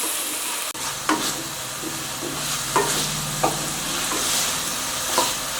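Chopped vegetables and a small cut tomato fry in a pan for Maggi noodles, a steady close sizzle with occasional scraping knocks of a spoon stirring.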